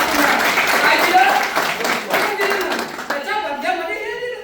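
An audience at a business seminar claps together in a brief burst of applause, loud and close at first and then tapering off as a voice begins speaking over it.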